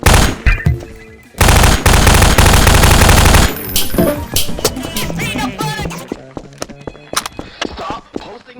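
Rapid video game gunfire bursts out in a dense, loud volley over about two seconds, followed by scattered single shots, clanks and clattering effects, with a voice speaking at the start.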